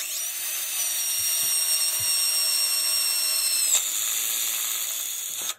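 A power drill whines steadily at a high pitch, driving a sharp self-tapping screw, then briefly changes tone and cuts off at the end.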